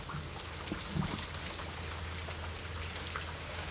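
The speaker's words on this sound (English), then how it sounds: "it's been raining for almost 24 hours already" Steady rain falling and pattering on surfaces, a constant wash of drops with a low rumble underneath, with no one talking.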